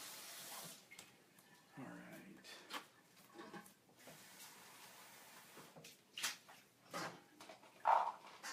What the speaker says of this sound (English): Anytime I use black beans, I always rinse them